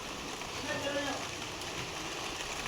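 Steady rain falls in North Karnataka after a few dry, sunny days, a dense even hiss that fills the whole short stretch without clear breaks.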